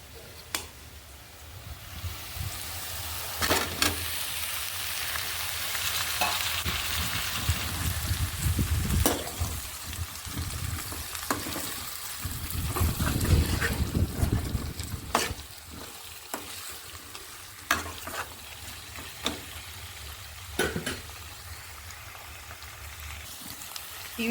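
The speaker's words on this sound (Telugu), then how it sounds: "వీటిని వేసేసుకుందాం, ఎందుకంటే ఇవి పచ్చివి కదా, కొంచెం ఆయిల్లో వేగితే బాగుంటాయి." Raw potato, egg and okra pieces fry in oil for a tangy curry, a sustained bubbling sizzle swelling and easing, punctuated by repeated sharp spatula taps against the pan.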